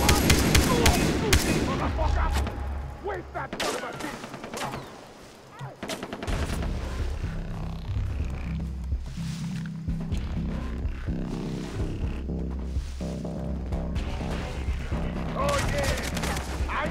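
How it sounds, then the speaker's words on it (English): Heavy AK rifle gunfire in the video game Far Cry 3, rapid bursts and overlapping shots almost nonstop alongside other in-game combat noise, with a brief lull partway through. "Now let's go with the AK for these guys."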